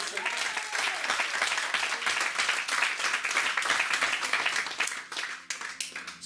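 A church congregation bursts into sustained, loud applause at a worship service, dense clapping filling the space for several seconds before thinning slightly near the end.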